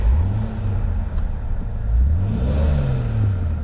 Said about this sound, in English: and then if I rev up